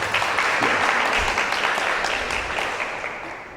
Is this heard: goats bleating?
no